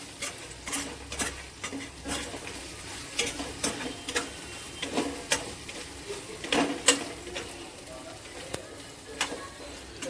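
Chicken coated in ghati masala is stir-fried dry in a pan, with repeated rhythmic scraping and tapping strokes of a spoon over a low sizzle, close and moderately loud.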